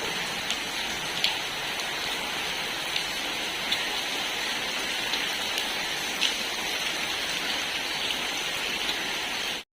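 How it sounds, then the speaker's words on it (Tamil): Steady night rain falls continuously on surfaces, a dense even hiss with scattered drip ticks, heard alone without speech. "எப்பவுமே மழை தான் இங்கே, மழை பெஞ்சிக்கிட்டே இருக்கும்."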